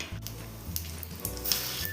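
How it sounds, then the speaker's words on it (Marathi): Cumin and garlic sizzle in hot oil for a tadka in a small pan, a close, steady crackling fry with a few sharper pops and spatters. "तेल गरम झालेलं आहे. जिरे घालायचे आणि लसूण घालायचं आहे."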